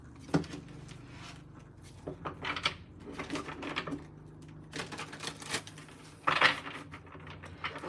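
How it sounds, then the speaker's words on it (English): Tarot cards being shuffled by hand give a run of soft irregular riffles, flicks and taps, close and fairly quiet, with a sharper slap of the deck near the end and no talking. "I will just shuffle these cards up for you"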